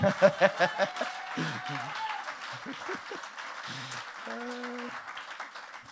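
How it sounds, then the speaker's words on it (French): A church congregation claps during a sermon, with a few sharp rhythmic claps at first, then a looser wash of applause beneath a pastor's voice and sung or drawn-out tones. "Donne-moi un bon applaudissement."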